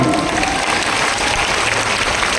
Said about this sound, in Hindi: एक बार ताली बजा के मुझे माहौल दो।